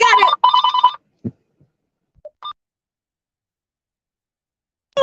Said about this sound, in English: Someone keeps calling me and I'm on my phone on StreamYard